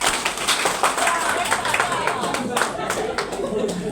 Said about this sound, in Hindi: जिनको समझ में आ रहा है एक बार ताली बजाओ।